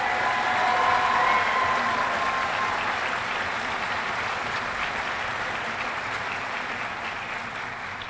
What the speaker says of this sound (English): please join me in a well-deserved round of applause for the drill instructors of Bravo Company